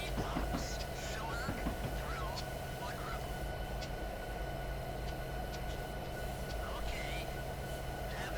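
A locomotive hauling empty coal hoppers in Train Simulator on the Alaska Railroad, a steady rumbling engine drone with rail noise and faint horn-like tones, while someone talks over it.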